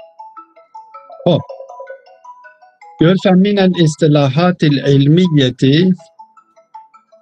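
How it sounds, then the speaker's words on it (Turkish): A mobile phone ringtone chimes in a steady melodic pattern during a lecture on Islamic philosophy, continuing faintly under a voice as he speaks loudly over it. "O telefon kimindir kapansın?"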